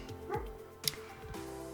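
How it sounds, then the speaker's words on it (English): A pet dog indoors gives a few short yips and whimpering whines, close and moderately loud, in brief bursts over a quiet room background. "That was my dog."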